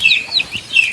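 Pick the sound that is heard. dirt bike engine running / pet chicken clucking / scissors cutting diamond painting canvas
pet chicken clucking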